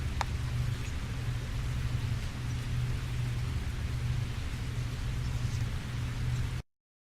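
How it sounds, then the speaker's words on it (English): Heavy rain pours steadily in the Calvino Noir video game, a dense, even hiss of falling water with a low rumbling undertone, loud and unbroken throughout before cutting off abruptly near the end. "The rain continues to hurtle from the heavens"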